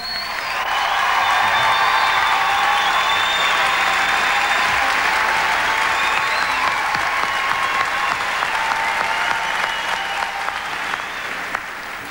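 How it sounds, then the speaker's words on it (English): A concert audience applauds the conductor at an orchestra performance with a rock band, the clapping dense, loud and steady from start to finish, with a faint murmur of crowd noise underneath. "please give him a big round of applause"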